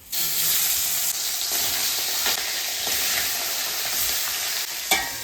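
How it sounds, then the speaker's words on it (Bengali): Roe-filled fish frying in oil in a kadai in a Bengali home kitchen, a steady loud sizzle and crackle throughout with a small clink of a utensil near the end. "এবারে ডিমওয়ালা মাছগুলো ভেজে নেবো"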